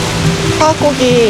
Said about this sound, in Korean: 온통 빗소리로 가득 찬 세상